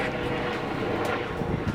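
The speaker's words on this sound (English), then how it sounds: "That was a civilian helicopter." Steady roaring engine noise of a civilian helicopter passing overhead, loud and continuous with no voices.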